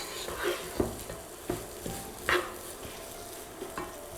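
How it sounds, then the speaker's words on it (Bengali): Rice frying in a pan for pineapple pulao sizzles quietly while a spoon scrapes and stirs it in a few distinct strokes, close up and with no talking. "চালটা ভাজা হয়েছে"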